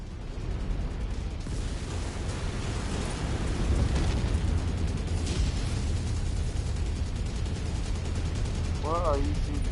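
Heavy mech weapons fire rumbles through a battle in MechWarrior 5: Mercenaries, a dense continuous barrage of booms and blasts with a steady low roar throughout.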